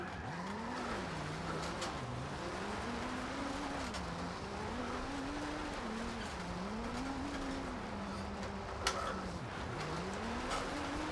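A car drifting in Forza Horizon 2 produces a steady engine drone with rising and falling revs and continuous tire squeal, sustained and even in level for the whole stretch, without talk.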